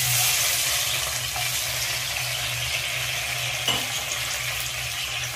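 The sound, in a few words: cashews and raisins frying with cinnamon, cloves, cardamom for pulao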